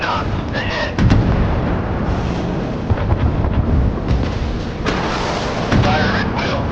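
Naval guns fire in the warship game Force of Warships: heavy booming shots land around one, five and six seconds over a dense, rumbling battle background, with faint voice chatter underneath.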